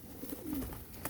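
Pigeons cooing close by, a short soft low murmured coo rising and falling over about a second, quiet against faint background noise with no talk.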